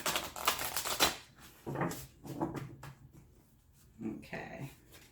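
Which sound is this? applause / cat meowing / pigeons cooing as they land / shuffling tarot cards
shuffling tarot cards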